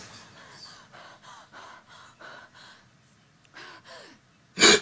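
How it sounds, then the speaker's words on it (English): Rhythmic, breathy gasps and heavy breathing from the video game Phantasmagoria, a steady series of short in-and-out breaths at moderate volume, ending in a sudden louder burst. "All you hear is just a breathing."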